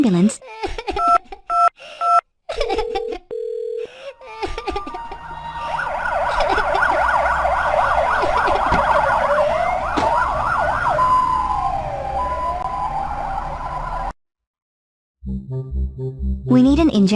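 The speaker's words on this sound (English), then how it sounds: "We need an ambulance." A cartoon ambulance siren from a children's emergency-vehicle video game sweeps up and down steadily for several seconds, loud and synthetic, with short game jingles and beeps before and after it.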